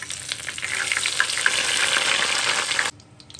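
Hot oil sizzles loudly and steadily with small crackles and pops as bay leaves and cardamom fry in it, then cuts off abruptly near the end.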